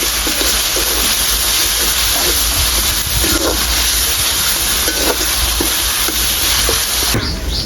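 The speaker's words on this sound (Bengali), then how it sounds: "রসুন আর আদা ভালো করে এখন ভেজে নেব" Garlic and ginger paste fries in a hot pan, giving a continuous loud sizzle and hiss with scattered crackles throughout, close up and without speech.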